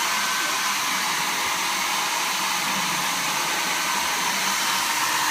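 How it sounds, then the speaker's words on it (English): A blow dryer runs steadily at close range, heating food in a coffee cup; a constant loud, even whoosh with no breaks, no talk over it. "All you need is a blow dryer, a coffee cup, and mouthwash."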